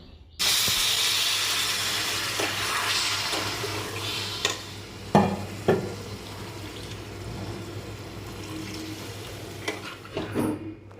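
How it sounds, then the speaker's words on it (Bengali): Water coming to a boil in a pan with fried potatoes and spices, a steady hissing simmer with occasional spoon knocks and scrapes against the pan, close and moderate in level, with no talk. "এবারে জলটা ফুটে এসছে"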